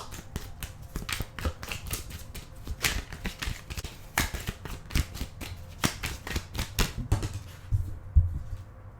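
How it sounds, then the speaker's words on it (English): Tarot cards being shuffled by hand close up, a steady run of crisp riffling and slapping card noises that continues throughout with no talking. "Let me shuffle one more time."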